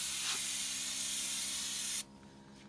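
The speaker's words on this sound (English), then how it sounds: "Brake cleaner." Brake cleaner sprayed from an aerosol can onto a brake rotor during a pad and rotor replacement, a close, loud continuous hiss lasting about two seconds before cutting off abruptly into quieter background.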